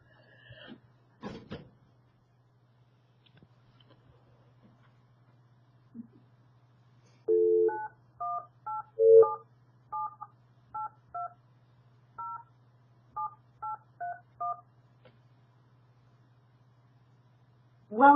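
A telephone keypad sends a passcode into a CenturyLink conference line as a series of short, evenly spaced DTMF beeps in a quiet line with a low steady hum, and a few other brief sounds come before and after.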